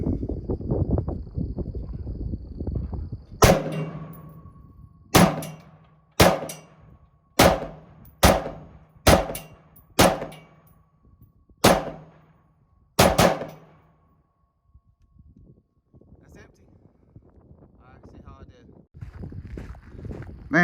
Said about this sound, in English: it's fun shooting the AR